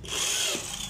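A power drill drives screws while industrial-style furniture is assembled, giving a brief, steady whirring burst at close range.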